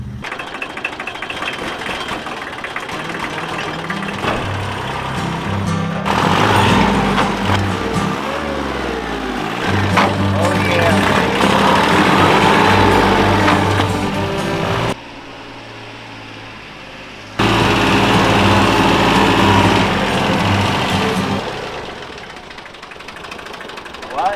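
A loud tractor engine runs with a clattering, knocking rumble that rises and falls. It cuts out briefly, then resumes before easing off near the end.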